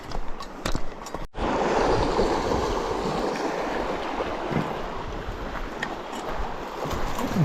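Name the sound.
fast flowing river water at a crossing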